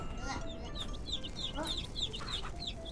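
Chickens cluck and chirp inside a coop in the farming video game Ranch Simulator, a busy flock of repeated short calls over a steady hum, with faint talk in the background.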